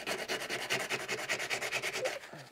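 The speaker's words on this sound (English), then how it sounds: "Notice I'm switching to a new spot on the sandpaper as it gets caked with glue." Sandpaper rubbed by hand over a glue repair on a wood carving, a close, steady run of quick scratchy back-and-forth strokes that stops near the end.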